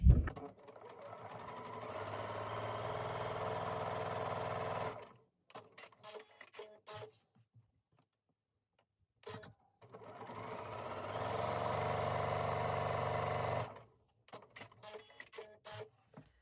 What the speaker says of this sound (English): I'm just gonna sew on both sides.